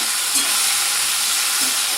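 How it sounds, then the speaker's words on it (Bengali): Food seasoned with turmeric fries in a pan, giving a loud, steady hissing sizzle with faint stirring scrapes, with no voices. "আস্তে আস্তে ভাজা হোক"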